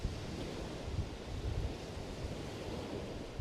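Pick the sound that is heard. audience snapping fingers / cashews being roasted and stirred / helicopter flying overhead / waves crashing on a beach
waves crashing on a beach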